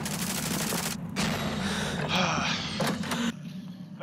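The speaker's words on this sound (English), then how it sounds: "I am under fire." Call of Duty Warzone combat plays as a dense stretch of gunfire, with brief harsh bursts and a low steady hum beneath, ending in a quieter tail.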